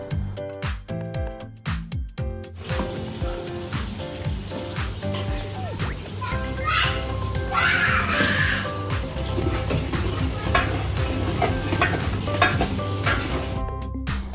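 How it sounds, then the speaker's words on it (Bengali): Rice stirred with a spatula in a pot of hot ghee, a steady loud sizzle with scraping and stirring strokes, near and continuous, and brief knocks at the start. "তো এখন আমি চালগুলো এক এক করে পাতিলে দিয়ে সুন্দরভাবে খুরচুন দিয়ে নাড়াচ্ছি এবং ভালো মতো কষাবো"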